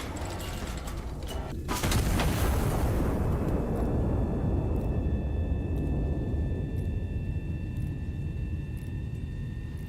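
A naval gun in a video game fires a shell with one loud, booming blast that rolls into a long, fading rumble, followed by quiet mechanical tones.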